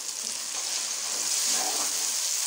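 Potato rice with biryani masala, salt and a pulav stock cube sizzling in a pot while being stirred, a steady, close hiss of frying with soft scraping, no voices.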